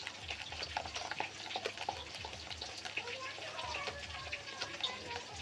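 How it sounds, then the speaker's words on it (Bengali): Lote fish frying for pakoras, a steady crackling sizzle of oil that runs throughout with scattered pops, close and moderately loud. "আর একদিকে মাছটা ওই ভাজা হচ্ছে।"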